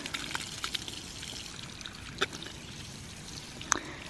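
Water trickling and pouring through the siphon pipe of a ram pump as air bubbles are cleared, a steady soft flow broken by a few sharper gurgling splashes.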